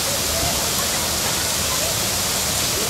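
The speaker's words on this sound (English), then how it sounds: "Here we are at the waterfall at Parrot Jungle." Waterfall at Parrot Jungle in Miami, a loud, continuous broadband rush of falling water that fills the whole clip evenly, with no breaks.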